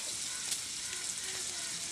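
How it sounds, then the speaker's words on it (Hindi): Onions frying in a frying pan give a steady, dense sizzle and crackle up close, continuous for the whole stretch with no talking. "फ्राई पैन में मैंने प्याज को ना मैं भुनने लगा रही हूँ"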